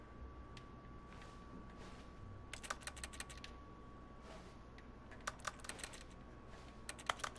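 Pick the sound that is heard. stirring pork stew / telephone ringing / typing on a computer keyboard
typing on a computer keyboard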